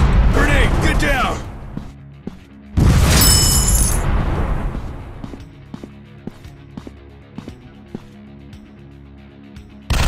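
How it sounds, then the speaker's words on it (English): A grenade goes off in a mobile first-person shooter game, a sudden loud close burst with a crackling rumble that fades, followed by scattered small clicks and pops, with voices talking before the blast. "Grenade, get down."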